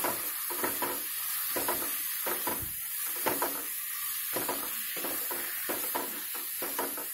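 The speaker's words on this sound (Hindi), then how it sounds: "साथ में डालेंगे हम गरम मसाला और इसको अच्छे से मिला लेंगे।" Garam masala stirred into a pumpkin (sitaphal) curry in a hot pan, with a spoon scraping in steady repeated strokes over a continuous close sizzle and hiss, no voices.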